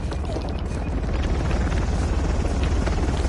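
Helicopter in the video game Uncharted: a steady, loud rotor thrum with low-end chop that persists throughout, dense broadband noise and no clear talking over it.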